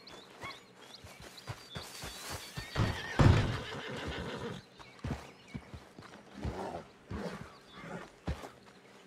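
A video game horse, angry and rearing, gives a loud, shrill whinny in the middle, surrounded by snorts and clip-clopping hooves, with creaks and other game sounds scattered around it.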